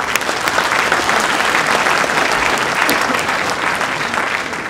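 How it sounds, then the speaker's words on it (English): Sustained applause from a crowd at a Cub Scout Cuboree orientation session, dense steady clapping with no pauses, fairly loud and close throughout. "Give a round of applause."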